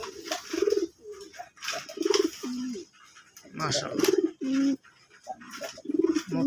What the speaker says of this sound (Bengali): এই এক পিস নর কবুতর দেখেন